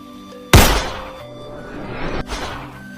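A shot fired up at a durian fruit in a tree gives a sudden, loud, sharp thump with a fading whoosh, and a second, softer knock follows about one and a half seconds later, outdoors with no talk.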